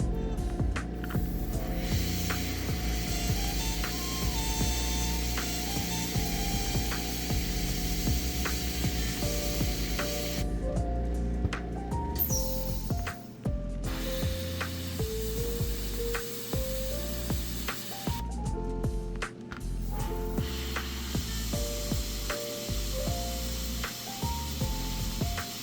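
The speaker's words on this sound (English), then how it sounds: "now we got some transparent black in the airbrush" An airbrush sprays transparent black paint onto a handmade fishing lure, a steady airy hiss layered over background music, with short pauses near eleven and nineteen seconds.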